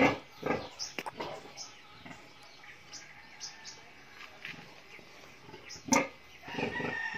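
Broiler chickens in a cage: scattered clucks and short squawks from several birds nearby, irregular and moderately loud, with one sharper call near the end and a rustling background.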